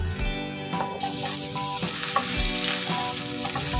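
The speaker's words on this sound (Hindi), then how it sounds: "इसे हम स्टर फ्राई कर लेंगे।" Finely chopped onion and green chilli stir-fry with cumin in a hot pan, a loud, continuous sizzle broken by the scrape and clatter of stirring, with no talk.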